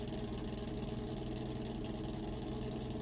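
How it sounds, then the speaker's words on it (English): Oldsmobile Aurora engine converted to a V12 running at a dry lake racing event, a steady even idle drone holding throughout without pauses. "the engine just fired up a little bit of smoke there"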